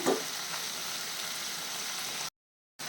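Chicken pieces for a pepper chicken dish fry in a pan over a high flame, giving a steady, close, continuous sizzle that cuts out briefly near the end and then resumes.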